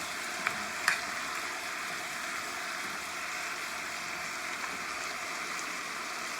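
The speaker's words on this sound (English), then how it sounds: "We're going to turn it over and let our onions cook and our garlic a little bit." Onions and garlic frying in a pan for beef short ribs give a steady, even sizzle throughout, with a couple of faint clicks near the start and no talking.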